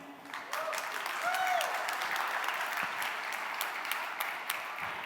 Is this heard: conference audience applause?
yes